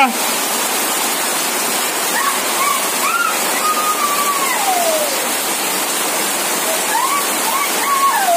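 Steady, dense rush of heavy rain pouring down without pause, with a voice singing or talking faintly over the downpour.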